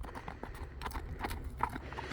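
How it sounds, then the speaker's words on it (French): Horse hooves clip-clop outdoors in open countryside, a few soft, irregular steps heard at moderate distance over low background rumble. "Un cheval."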